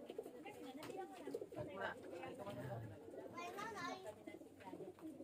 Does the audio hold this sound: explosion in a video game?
no